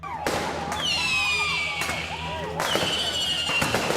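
Burning firecrackers and petrol bombs are thrown at police during a street protest, with several sharp bangs and whistling tones bursting over a steady roar of crowd noise.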